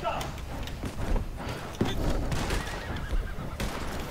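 A horse neighs and whinnies in the video game Red Dead Online, with hoof clops and game noise in the mix while people talk over it.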